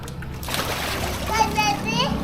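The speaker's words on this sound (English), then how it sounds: "He went from splashing the neighbor to splashing me." Water splashing from a small boy playing, with broadband splashes through most of the clip and a voice and adult talk mixed in close by.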